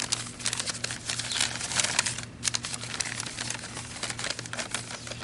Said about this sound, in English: let's get the brown paper off and take a look and see what we got.